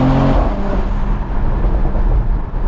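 Mercedes E53 AMG engine accelerating on a city street, a loud, close, continuous low growl that holds steady throughout, heard from inside the car with no talking.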